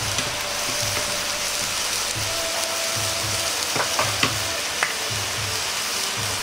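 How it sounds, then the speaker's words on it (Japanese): Ginger and carrot stir-fry in oil over low heat for a Chinese-style yakisoba dish, giving a continuous close sizzle with a few sharp spatula scrapes near the middle and end, and no talking. "まずは生姜と人参を入れ炒めます。"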